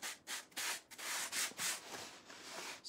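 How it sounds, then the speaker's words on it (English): Sandpaper rubs back and forth across a leather purse in steady, close, scratchy strokes, with short gaps between passes and no talking. "I'll just go all the way around with my sandpaper."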